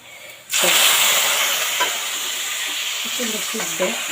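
Large chicken roast pieces fry in oil with a loud sizzle that bursts in suddenly after a brief quiet start, then settles into a steady crackling hiss with scattered pops and light scraping nearby.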